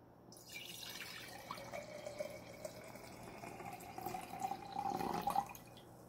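Ordinary white vinegar poured into a jar, a thin trickling stream whose pitch rises as the jar fills, quiet and close, with no talking.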